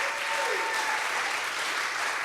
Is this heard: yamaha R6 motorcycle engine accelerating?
no